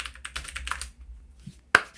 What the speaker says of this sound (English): he's actually typing in the chat as we speak